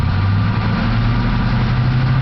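A 6.2 engine runs in neutral, heard as a loud, close, steady low drone that holds fairly even throughout, with no talking.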